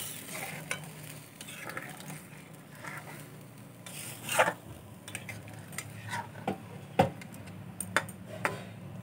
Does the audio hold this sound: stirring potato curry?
yes